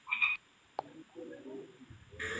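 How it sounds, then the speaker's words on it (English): Single loud frog croaks ring out close by, a short burst at the start and another near the end, separated by quiet stretches with faint low rustling. "That's frog."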